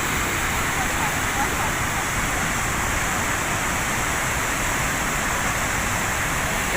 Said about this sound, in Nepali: यो छ यो नर्मदा नदीको वाटरफल, यसलाई भन्दो रहेछ भेडाघाट।